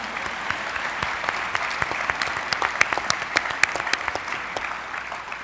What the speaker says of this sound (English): Yes, that does deserve applause.